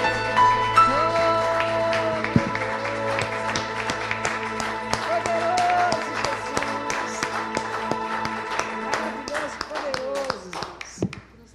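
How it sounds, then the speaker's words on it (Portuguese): A church congregation claps along in worship, a steady run of hand claps lasting the whole stretch beneath singing and a sustained musical tone, loud and close. "Vamos aplaudir o Senhor Jesus, engrandecendo Ele."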